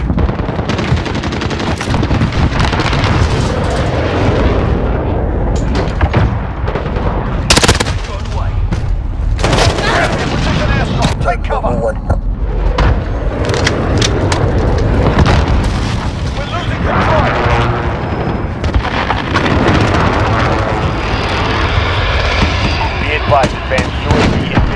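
Called-in air strikes in Modern Warfare 2019 pound the battlefield with loud, dense explosions and booming blasts under sustained automatic gunfire, while radio voices talk throughout the chaotic, continuous barrage.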